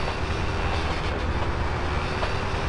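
A train rumbles steadily through Grand Theft Auto San Andreas with a continuous low drone and faint tonal hum, alone and without talk.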